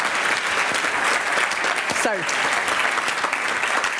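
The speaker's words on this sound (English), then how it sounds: "Can you clap these gentlemen as well" An audience at a European Commission event claps steadily for presenters, a dense, even wash of many hands throughout, with a brief spoken word cutting in near the middle.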